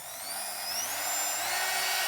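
A Bosch Dremel-style rotary tool runs at its lowest speed setting, giving a steady, close, high-pitched whine with a slight upward drift in pitch and no talk over it.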